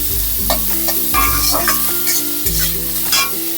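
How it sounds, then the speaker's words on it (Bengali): Onions frying in a pan over high gas with a little salt added, a steady close sizzle broken by repeated scraping stirs of a spatula in an even rhythm, no voices. "এই সব কিছু আমি হালকা করে ভেজে নেব।"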